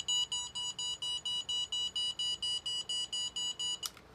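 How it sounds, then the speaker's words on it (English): An MJX Bugs 6 FPV drone sounds a warning for a disconnected remote: a steady train of about fifteen identical short, high electronic beeps, evenly pulsed and fairly quiet, with no talking. "that's the noise that you get if you turn off the remote"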